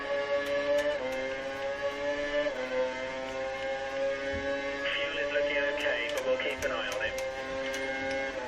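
Formula 1 race car engine in the F1 2013 video game at the Malaysian Grand Prix, a steady high-pitched whine rising and dropping with gear shifts, continuous and fairly loud with a brief burst of added noise partway through.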